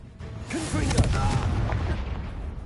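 Confringo fire spell from Hogwarts Legacy bursting in a heavy boom, with a sharp onset followed by a rumbling, crackling blast that holds loud before slowly fading.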